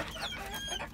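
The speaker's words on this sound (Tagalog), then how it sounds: "Manok." A chicken clucks briefly and softly in a backyard flock, a quick burst of short calls at moderate distance.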